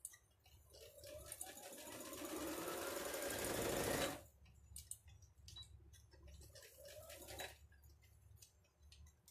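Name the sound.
sewing machine stitching fabric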